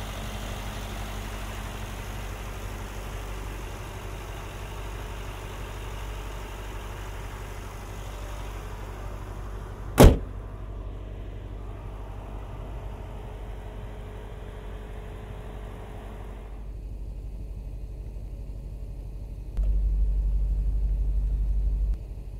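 A 2022 Mercedes-AMG SL 63 roadster's V8 biturbo engine runs with a steady, deep idling rumble. A single sharp click sounds midway, and the tone thins slightly later on.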